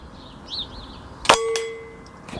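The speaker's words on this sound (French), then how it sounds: "Allez, on retire le gong." A metal shooting gong target struck by an airgun pellet gives one sharp, loud clang that rings with sustained tones and fades over about a second, with a fainter second tap right after. The airgun is a Benjamin Armada, 20 joules, 5.5 mm.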